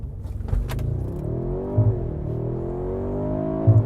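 2025 Mercedes-AMG G63 twin-turbo V8 doing a race start launch: a close, throaty engine roar that climbs steadily in pitch as it accelerates, with a brief dip partway through and no talking.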